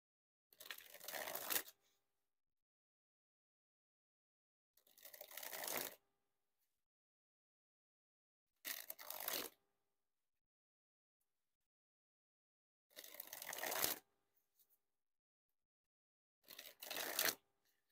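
A Bicycle Color Series Pumpkin edition deck is dribbled five times, each a rapid fluttering cascade of cards lasting about a second, close and crisp, separated by quiet pauses.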